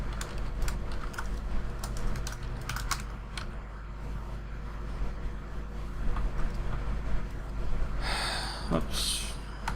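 Rapid, uneven keystrokes rattle on a computer keyboard during code editing, clattering over a low steady hum, with breathy sounds toward the end.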